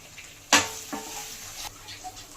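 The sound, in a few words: tomato pieces frying in a pan with turmeric and salt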